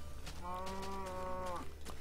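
A cow in the video game Minecraft gives a single drawn-out moo lasting about a second, fairly clear over a faint steady background hum, with no talk.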